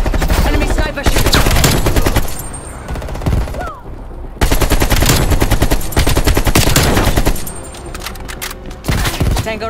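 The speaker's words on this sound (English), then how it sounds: "Enemy sniper shooting." Dense rapid gunfire and booming shots in Call of Duty Black Ops Cold War, loud and close, in bursts with short pauses, including sniper shots amid heavy automatic fire.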